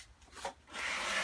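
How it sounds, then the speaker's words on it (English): A foam-ended wooden sanding block rubs back and forth over a wooden desk part, giving a soft rasping scrape that rises into a steady, close hiss of sanding near the end. "If you don't have a power sander, you can try using a sanding block."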